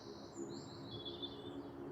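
A mistle thrush sings outdoors, high chirping and warbling phrases carrying over a steady low rumble of background noise and a distant goose, continuous for about two seconds.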